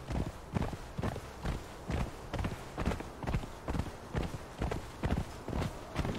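Horse hooves trot steadily in the video game Conan Exiles, a regular clip-clop of evenly spaced beats, close and fairly loud, with no talking over them.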